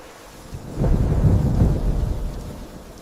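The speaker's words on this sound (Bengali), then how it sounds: "পরেই বনে মেঘরানী মুষলধারায় বৃষ্টি দিতে থাকে।" In a cartoon forest scene, a deep rumble of thunder swells and rolls for about two seconds over a steady hiss of heavy pouring rain, then fades back to the rain alone.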